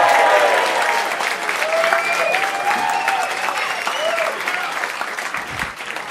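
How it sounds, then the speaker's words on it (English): A comedy club audience applauds and cheers as a stand-up comedian is welcomed onstage, dense sustained clapping with whoops and shouts rising above it, loud and close, tapering slightly near the end. "Applause going."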